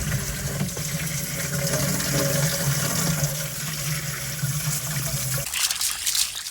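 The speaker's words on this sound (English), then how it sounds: "I'm rinsing above a bamboo container, not only to clean the aggregate" Tap water pours and splashes steadily over gravel aggregate held above a bamboo container in a small English garden, a continuous close rushing that cuts off abruptly near the end.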